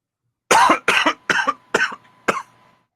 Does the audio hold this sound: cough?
yes